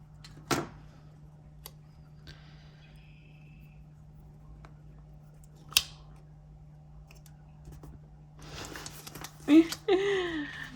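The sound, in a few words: scissors cutting out paper leaves for a planner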